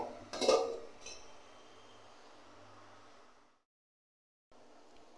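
A lid clinks onto a pot of boiling water on the stove with one sharp metallic clatter near the start, followed by a steady hiss of bubbling that cuts off, then a short return of the hiss; close, nobody speaking.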